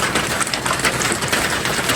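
Heavy rain pouring down at night out in rice fields during a storm, a dense steady hiss of drops drumming on surfaces, close and unbroken.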